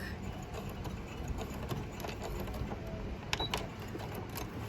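A sewing machine stitches back and forth to finish a fabric mask, a faint, steady mechanical whir with light ticking and a brief clack near the end.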